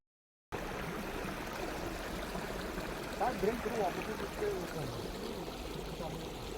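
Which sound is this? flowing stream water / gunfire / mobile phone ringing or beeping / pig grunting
flowing stream water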